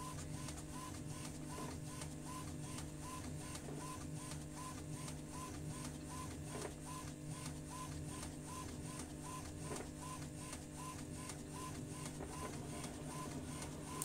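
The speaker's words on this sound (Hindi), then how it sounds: "तो देखिए ये हमारा जो प्रिंट है, प्रिंट ये निकल रहा है, देख सकते हैं धीरे धीरे करके।" An HP ink tank printer that has trouble printing black feeds out a page with a continuous mechanical hum and evenly repeating soft clicks, close by and with no talking.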